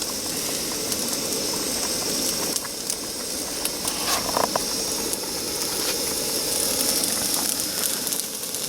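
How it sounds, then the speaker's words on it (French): Onions and garlic frying for paella in a pan on a camp stove outdoors, a soft continuous hiss and sizzle with a few faint clicks and clatters, fairly quiet and steady throughout. "là on est en train de faire revenir les oignons avec l'ail aussi"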